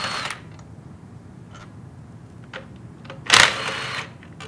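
A tool whirs in short bursts while cap screws are removed from the elbow of a Sandpiper HDF2 or HDF1 pump, with a louder burst near the end and quiet clicks between.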